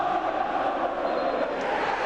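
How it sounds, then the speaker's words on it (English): A football crowd at Highbury roars in the closing moments of Arsenal against Bolton Wanderers in 1995/96, a dense, continuous wall of massed voices at steady volume. "Listen to the crowd now at Highbury."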